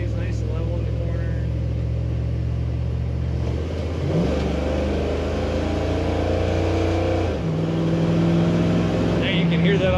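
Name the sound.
1954 Chevrolet 3100 street rod exhaust note accelerating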